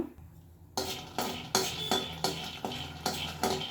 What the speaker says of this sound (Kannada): ಬಾಣಲಿ ಬಿಸಿ ಮಾಡ್ಕೊಂಡು ಲೈಟಾಗಿ ಫ್ರೈ ಮಾಡ್ಕೊಳ್ಳೋಣ